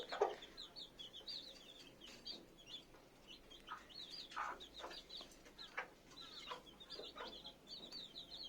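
A mother hen about a year old with a white neck, kept with her chicks, clucks softly and repeatedly while high chirps flutter around her; the calls are fairly close, with no talking.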